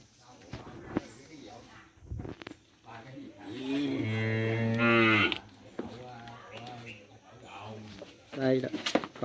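Cattle in a barn at a cattle trading farm, with 3B and cream French breeds mentioned, low loudly in a long, drawn-out moo, with shorter lowing calls and other animal noises around it.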